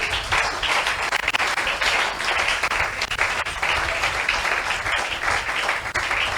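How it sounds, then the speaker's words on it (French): A church congregation applauds loudly and continuously, dense steady clapping filling the room with no pause throughout. "Tchovandi, nous acclamons très fort pour Dieu"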